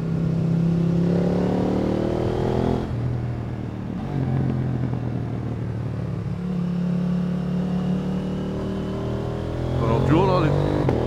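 A motorcycle engine revs and shifts while climbing the winding Col du Galibier mountain pass, its droning pitch rising and dropping through the gears, with steady wind rush beneath.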